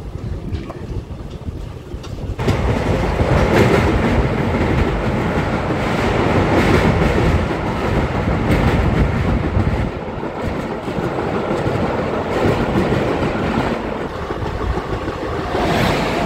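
Hisar–Surat (Udhna) summer special passenger train running on the Jaipur–Ratlam route, a loud steady rumble of wheels and carriage noise with wind buffeting, rising sharply after a quieter opening and holding continuously.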